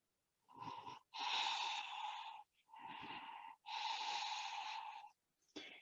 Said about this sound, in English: Connecting with your Ujjayi breath.